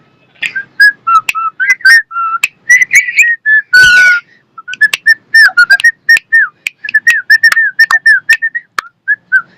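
A pet parrot whistles the tune Old MacDonald Had a Farm: a long run of clear, high, close whistled notes in short bursts and phrases, with brief pauses between them and no talking.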